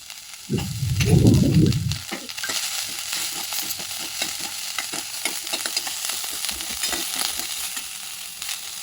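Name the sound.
chopped vegetables stir-fried on high flame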